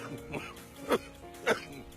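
A man coughs during a Filipino news broadcast: two or three short, throaty coughs with a throat clear, close and fairly quiet, spaced about half a second apart.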